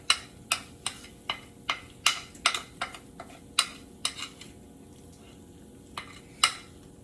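Eggs cook in a hot pan with a steady low sizzle, broken by a series of sharp, regular clacks from a utensil stirring and scraping against the pan.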